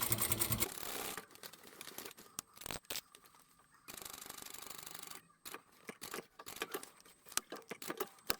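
Sewing machine stitching a beginner tote bag, short bursts of rapid mechanical whirring forward and back with pauses and small handling clicks between, close and fairly quiet, no talk.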